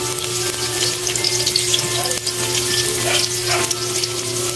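Tofu frying in a pan for a simple bean sprout dish, a steady close sizzle with faint watery crackle running through the whole stretch, no voices.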